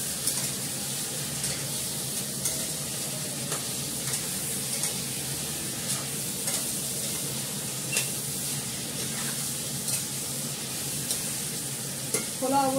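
Meat and potatoes stir-fried uncovered in a pan, a continuous dense sizzle with scattered spoon scrapes and small clinks running steadily throughout, close up and without speech.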